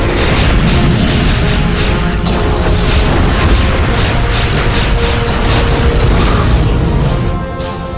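Dense, continuous barrage of booming blasts, bursts and mechanical clatter from starship weapons fire in a sci-fi space battle near a starbase, loud and sustained throughout, easing off slightly at the very end.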